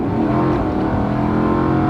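A heavy V8 former security guard car accelerates at full throttle, a loud, steady low engine drone heard from inside the cabin as it pulls from a stop, with no talking.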